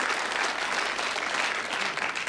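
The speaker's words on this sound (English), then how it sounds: "Again, give them a round of applause." Studio audience on a game show breaks into steady, dense applause, a loud continuous wash of clapping hands that holds for the whole stretch with no voices on top.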